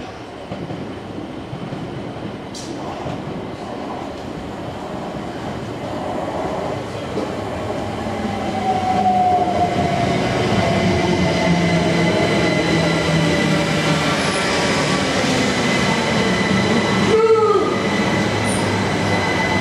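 Southern Class 377/2 Electrostar electric trains at Bletchley station rumble steadily nearby, with a rising motor whine and brief squeals from the wheels late on.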